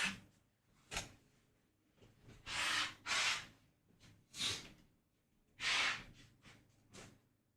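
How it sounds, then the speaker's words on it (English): A person blowing their nose away from the microphone, several separate bursts of breathy snorting and blowing spread across the clip, fairly faint and distant, with no talking. "I'm gonna blow my nose off camera real quick."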